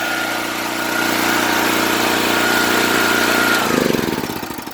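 A small portable Ford generator engine, just restarted after a rope repair, runs loudly and steadily, then surges and changes pitch near the end, its rough throbbing close by.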